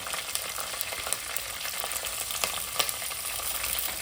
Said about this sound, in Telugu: అది ఆల్రెడీ చాలా హీట్లో ఉంది ఆయిల్ అనేది అందుకని అన్నీ ఫాస్ట్ ఫాస్ట్ వేసేసుకున్నాను